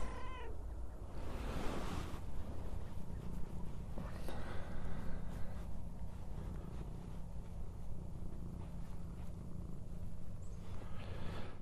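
A cat meows repeatedly close by, with purring and mewling in between, its cries standing out over a steady background rush in an outdoor spot near a septic system.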